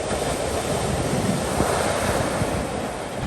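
Hawaiian ocean waves on the North Shore, a loud, continuous roar of surf with a steady wash of breaking water and some wind across the microphone, with no voices.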